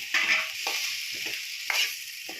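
Cauliflower florets sizzle and fry in a pan for a gobi rice dish, with a spatula stirring and scraping in several short bursts against a steady close hiss.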